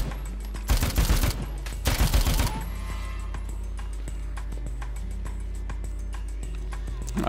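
Two loud, rapid bursts of assault rifle fire from the zombie video game Dead Rising rattle out close together, each about a second long, then give way to quieter in-game ambience with faint thuds.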